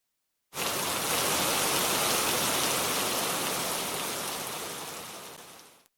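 Steady, dense rain pours down alone for several seconds, a broad constant hiss of drops striking surfaces that holds loud and even before tapering slightly.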